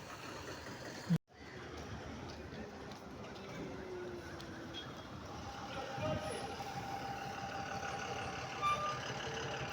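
A bus engine rumbles steadily at Palani central bus station in Tamil Nadu, a constant low drone with a thud at the start, amid distant crowd chatter and traffic noise.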